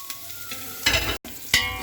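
Onions frying in oil in a cooking pot, a soft sizzle broken by two louder bursts of stirring, close and brief with no voices.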